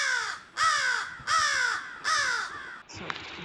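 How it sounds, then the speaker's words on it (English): A crow gives four loud, harsh caws in a steady rhythm, each call close and clear with short pauses between, followed by a brief faint rustle at the end. "So, you guys know, pretty normal crow noise."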